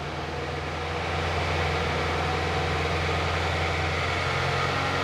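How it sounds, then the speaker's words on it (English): A 2005 Toyota Corolla engine runs steadily just after throttle body cleaning, a constant low hum with broadband roar that holds even throughout, close and fairly loud, with no clear rev spikes. "You might have to rev the engine a little bit."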